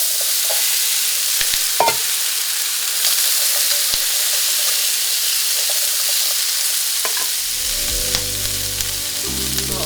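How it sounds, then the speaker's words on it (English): Spicy potatoes dropping into hot oil raise a loud, continuous sizzle and crackle, close up, with a few clinks and knocks and a low rumble near the end. "We will quickly put in the potatoes and turn down the heat."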